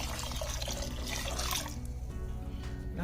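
Water poured into a pot of soaking brown rice and urad dal for kaanji, a continuous close splashing stream that thins to a lighter trickle toward the end, with a low steady hum beneath.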